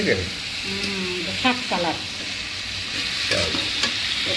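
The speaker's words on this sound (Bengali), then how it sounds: "এখন ঝোলটা দিয়ে দিব" Meat frying in a pan gives off a steady, close sizzle, with broth being added and brief scraping stirs, while someone talks over it.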